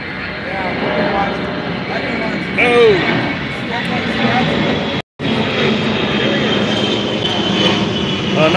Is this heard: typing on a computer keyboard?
no